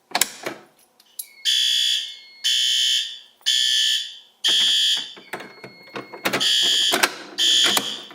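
A home fire alarm system under test sounds in repeated loud, piercing electronic horn bursts, roughly five pulses with short gaps, preceded and broken up by handling clicks and knocks nearby.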